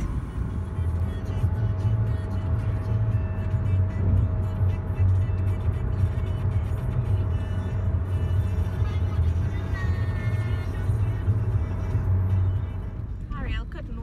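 A car drives along with a steady low engine and road rumble throughout, close and continuous, while people talk inside the cabin.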